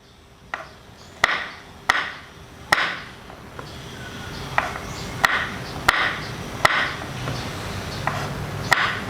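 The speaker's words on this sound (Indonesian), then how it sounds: "Kita akan potong buncis." Green beans are cut on a board with about a dozen sharp, evenly spaced knife chops, close and distinct against quiet, with no talking.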